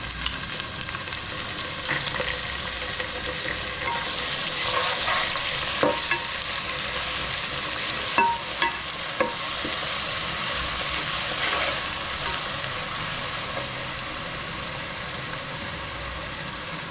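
Ginger garlic paste fries in a pan for soya dum biryani, giving a loud, continuous sizzle with scattered clicks and scrapes from stirring, steady and close throughout.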